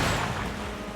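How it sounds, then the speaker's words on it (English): Torpedo launched in the SteamWorld Heist II game, a brief, dense boom that rings out broadly and decays slowly across about a second, heard alone without talk. "Let's torpedo this guy."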